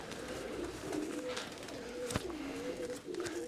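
A pigeon coos softly in a loft, a low rolling warble repeated in a steady, continuous rhythm against a faint background hiss, with no talking over it.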